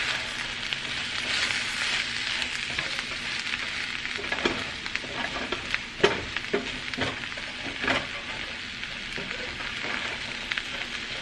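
Flour and chicken pot pie filling sizzling in a cast iron pan, a continuous soft frying hiss broken by occasional scraping stirs, heard close with no talking.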